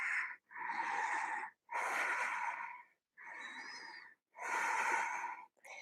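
Deep, slow breathing during a vinyasa yoga bridge pose: five loud, close breaths alternating inhale and exhale, each about a second long with brief pauses between, heard alone without talk.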